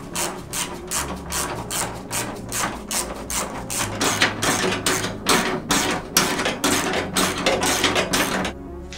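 Screws being driven to fasten a larger car radiator onto its original mounting points: a close, loud run of rhythmic mechanical bursts, steady and repeated, with no talking.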